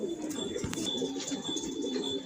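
A red Shapchila pigeon coos softly in low rolling phrases, close and steady, with faint rustling and a thin electrical hum in the background.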